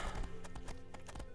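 Horse hooves clip-clopping in the fantasy game Riders of Icarus, a quick run of hoof strikes with a brief whinny-like tone over a dense game background, fairly faint.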